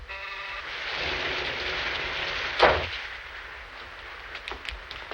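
Steady rain pours down in an old black-and-white movie musical comedy, a broad even hiss throughout with a sharp crash-like burst near the middle and a few faint clicks toward the end.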